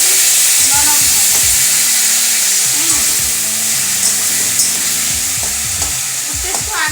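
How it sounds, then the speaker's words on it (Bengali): Water poured onto jaggery in a hot pan for mango chutney sets off a loud, steady sizzle and hiss, with spoon scrapes and stirring clatter throughout. "একটু জল দিয়ে দিচ্ছি, গুড়টা যাতে সামান্য গুড়টা যাতে নরম হয়"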